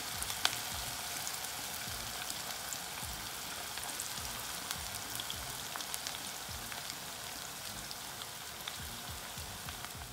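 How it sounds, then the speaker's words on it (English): Steady crackling sizzle of cauliflower florets deep frying in hot oil, continuous and fairly close, with fine popping bubbles throughout and no talking. "the gobi or the cauliflower pieces are frying"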